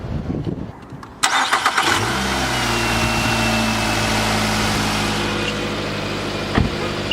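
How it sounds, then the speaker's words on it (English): Car engine cranking and catching after a battery replacement: a brief starter whir, then the engine fires and settles into a steady close idle, with a small bump near the end. "our battery worked, our car started, so we're all good."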